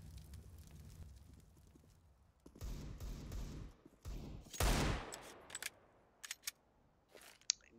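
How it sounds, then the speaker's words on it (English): Gunfire in a CS:GO competitive match, scattered bursts and sharp single shots over a faint background, one louder rattling burst in the middle and a few crisp late cracks. "They're literally shooting each other."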